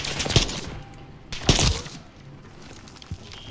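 Modern Warfare III campaign firefight: a few loud separate gunshot bursts, each with a sharp crack and short echo, spaced apart over steady background noise, no talk.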